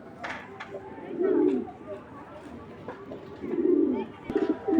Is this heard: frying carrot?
no